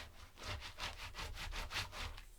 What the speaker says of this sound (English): Now I'm going to burnish it real well